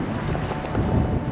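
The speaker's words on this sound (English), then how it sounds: "Wind came up pretty good" Strong wind gusts buffet the microphone outdoors at a Sierra mountain camp near a creek and waterfall, giving a continuous loud rushing roar with low rumbling and no voices.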